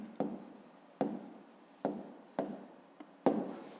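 Pen or pencil writing the answer to a fifth-grade maths exercise by hand on paper, six short scratchy strokes spaced about a second apart, close and fairly quiet with no talk.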